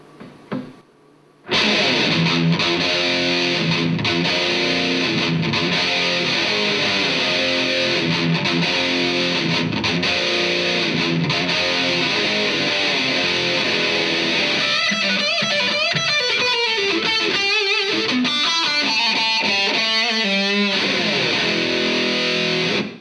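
A heavily distorted electric guitar through a Roland Cube amp's Extreme high-gain channel plays continuously and loudly, thick and saturated, with busier picked passages near the end.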